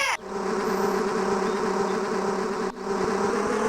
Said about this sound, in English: for some reason there are giant subterranean bees living in this stone.